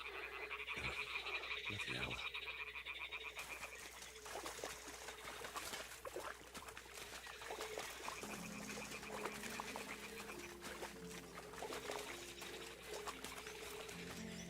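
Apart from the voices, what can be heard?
toads croaking in video game Kingdom Come: Deliverance II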